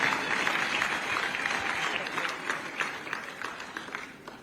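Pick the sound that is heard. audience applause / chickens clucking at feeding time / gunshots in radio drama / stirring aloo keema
audience applause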